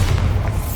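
A Bombarda blasting spell explosion in the Hogwarts Legacy video game, heard as a brief, dense, loud booming rumble with a heavy low-end thud.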